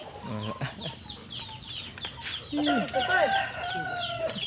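Chickens cluck and squawk in a busy poultry farmyard in Cebu, with a rooster crowing amid the chatter and a voice speaking faintly.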